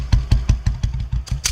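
A motorcycle engine runs at low speed as the bike slows to a stop, with a steady pulsing thump of regular beats close by and no talk.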